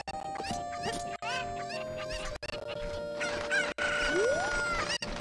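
Cuckoo chickens in the Zelda Ocarina of Time video game, with repeated clucking, a crow and other fowl calls over game music and sound effects, loud and busy throughout.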